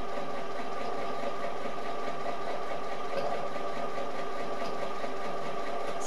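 A sewing machine stitches stretchy jersey fabric for a weighted eye mask, a steady, moderately quiet mechanical whir with a fast, even needle rhythm running throughout.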